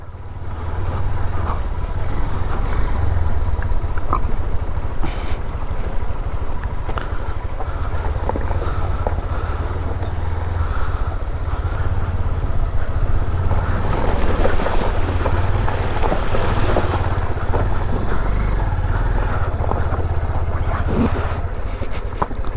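A mountain river in Nepal, running higher in the morning, rushes past in a loud, unbroken roar of churning water close by, with wind buffeting the microphone and no one speaking.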